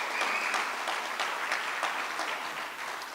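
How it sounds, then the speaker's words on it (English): Steady audience applause at an annual meeting presentation, a continuous wash of many hands clapping, moderately distant and without talk. "give them a round of applause"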